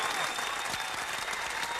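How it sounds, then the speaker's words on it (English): An audience applauds at a street-naming event honoring a late rapper, a dense continuous burst of many hands clapping, close and steady for the short stretch. "round of applause for this"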